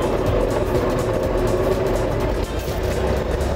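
A Ford Model T runs its engine in a loud, steady rumble that fills the whole clip at a constant level, heard close by with no speech.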